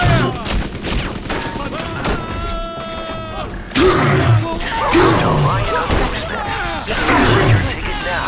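A volley of gunfire rings out in BioShock 2, several sharp overlapping shots and heavy thumps arriving in loud bursts amid shouting voices and game ambience.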